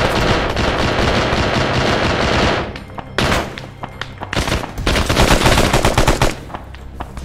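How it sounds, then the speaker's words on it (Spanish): Rapid bursts of automatic gunfire from a video game shooter crackle loudly and close, one long sustained volley followed by several shorter bursts separated by brief pauses. "Están disparando para acá"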